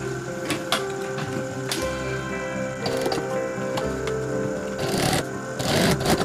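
A sewing machine stitches netting onto folded cloth for a homemade trekking bag, running in bursts of steady mechanical whirring broken by short pauses and clicks, close and fairly loud with no talk.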